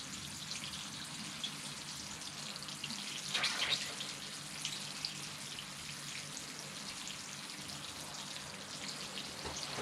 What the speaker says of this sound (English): So we'll come in with the water again for its first watering in its new soil, drain all that dust away.